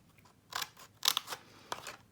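Scissors snipping paper for a snowman gift box craft, three distinct crisp cuts close up in a quiet room, each a short sharp crunch spaced about half a second apart.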